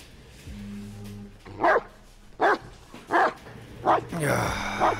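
A dog in the room barks four times at an even pace, loud and close, over quiet horror-game ambience from Blair Witch, with brief speech at the start.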